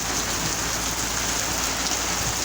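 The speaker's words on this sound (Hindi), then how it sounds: "चेक करो, बड़ी बारिश हो रही है।" Heavy rain pours down in Lahore as a dense, unbroken hiss of drops striking surfaces, loud and steady throughout, with no voices.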